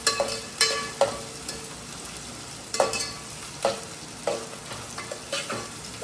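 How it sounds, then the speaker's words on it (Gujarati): Onions tossed into hot oil in a pan for a tinda curry, a continuous sizzle punctuated by sharp spoon scrapes and stirring knocks every second or so, close and fairly loud, no voices. "હવે આ રીતે આપણે ડુંગળી એમ બધી એમાં ચડાવી દઈશું."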